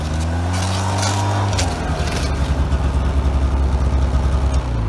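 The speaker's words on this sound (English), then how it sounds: "Here comes Father trying out his new chainsaw." A new chainsaw runs out on a trapline on a clear day, a steady close engine drone that shifts pitch partway through and settles into a rough, pulsing idle.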